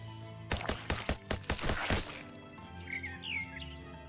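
Chirps from a bird in the video game Shadows Over Loathing come after a burst of sharp staccato game hits, as a few short, bright tweets over faint background game music.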